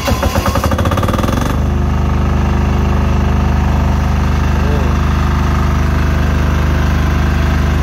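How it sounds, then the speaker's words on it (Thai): A new single-cylinder 50 Hz diesel generator runs steadily up close, loud and throbbing, after a brief rougher start. "ตัวนี้มันใช้เครื่องยนต์ดีเซล ใช่ กี่สูบ สูบเดียว 1สูบ"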